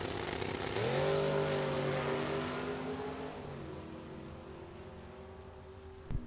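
Drag racing cars, a Camaro versus a Mustang, roar past at a distance, engine tones rising then sweeping down and fading over several seconds, with a brief sharp knock at the end.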